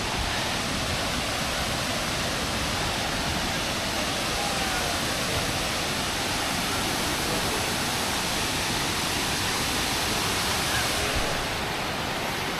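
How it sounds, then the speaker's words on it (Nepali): Steady rushing water of a small waterfall near Sailung, Nepal, broad and continuous throughout, with no pauses or distinct events. "यहाँ चाहिँ सानो झरना रहेछ"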